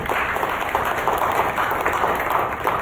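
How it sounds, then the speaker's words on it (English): A church congregation claps together, a dense, steady patter of many hands that stays loud and continuous throughout. "I see some hands clapping."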